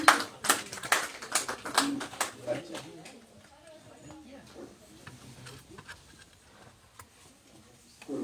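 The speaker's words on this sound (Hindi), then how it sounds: "एक बार जोरदार तालियां आप सभी बजा दें।" Audience applause at a Hindi poetry recitation gathering, a burst of clapping loud at first that thins out and fades over several seconds.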